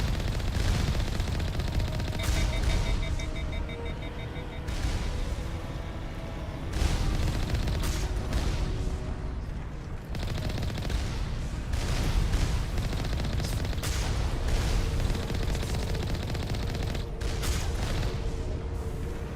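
Sustained automatic gunfire and heavy booms from combat in Mass Effect Legendary Edition, loud and dense, pounding continuously with short pauses between bursts.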